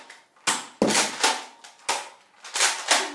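Several sharp, close snaps from a Nerf blaster in quick irregular succession, each a loud crack trailing into a brief hiss, with no talking.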